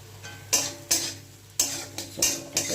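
A spatula stirs and scrapes spice paste with red chili powder, turmeric, tomato and ginger in a pan for a fish dish, making a steady series of quick scraping strokes over a faint sizzle.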